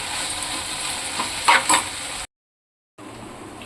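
Okra fry is stirred in a pan, a continuous close sizzle with a few clinks of a spoon against the pan, broken by a short silent gap.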